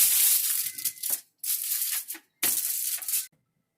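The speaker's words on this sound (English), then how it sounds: "we'll place down a pan, cover it with tin foil." Tin foil crinkles loudly while covering a pan, three bursts of sharp crackling and tearing separated by short silent gaps, close and alone.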